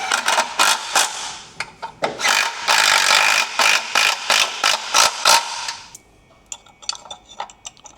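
A hand ratchet tightens bolts on a first-generation Max trim kit, sounding as a fast series of sharp clicking strokes up close, then a few scattered lighter clicks and taps after a short pause.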